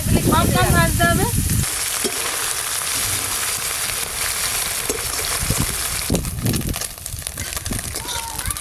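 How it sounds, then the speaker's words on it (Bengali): Small fish fry in hot oil with a constant loud sizzle and crackle up close. A voice speaks briefly at the start, and there are occasional scraping knocks near the end. "ছোট মাছগুলো বেশ ভালো করে মচমচে করে ভাজা হয়ে গেল"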